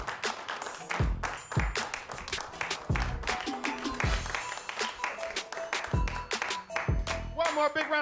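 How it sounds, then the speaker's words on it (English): Audience applause for a stand-up comedian at a comedy show, steady clapping filling the room with a dense crackle throughout, while music with a beat plays over it. "One more big round of applause for Anthony Bonazzo, ladies and gentlemen"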